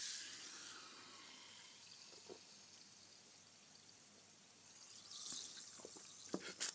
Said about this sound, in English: You add the citric acid and it instantly froths up